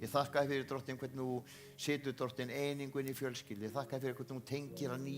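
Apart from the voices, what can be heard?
No everyday noise stands out behind the speech.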